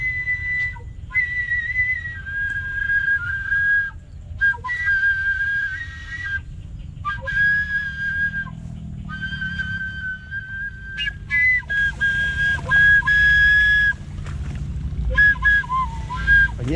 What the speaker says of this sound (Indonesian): Suara sulingnya palas banget.